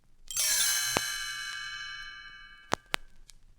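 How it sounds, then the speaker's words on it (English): A bright chime rings out and slowly decays, shimmering, followed by a few soft clicks and taps as it fades. "You will know it is time to turn the page when you hear the chimes ring like this."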